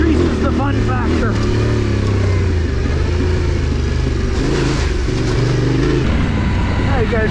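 Yamaha Tenere adventure motorcycle with luggage riding off-road, a loud steady engine drone and rumble with shifting revs throughout, close and continuous.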